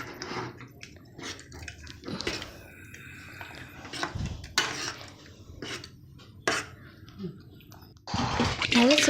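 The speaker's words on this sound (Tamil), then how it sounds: "நம்ம எடுத்து வச்சுருக்க சிறுபருப்பு பருப்பை இந்த காய் கூட சேர்த்துடலாம். நல்லா மிக்ஸ் பண்ணி விட்டுடலாம்." Spoon clatter and scraping in a pot as moong dal is stirred into cooked vegetables for sambar, with irregular metallic clinks and brief splashy bursts at moderate loudness, mostly without voices.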